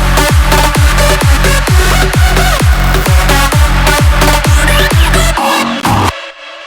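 Three layered synth sounds play an EDM drop melody together over steady, punchy kicks, loud and continuous for about six seconds before cutting to near silence.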